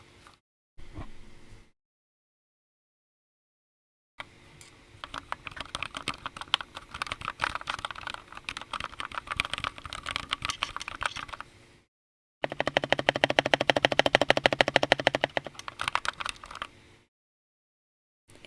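Typing on a custom-built RGB mechanical keyboard, a close, dense run of key clicks in bursts separated by brief silences, with no talking.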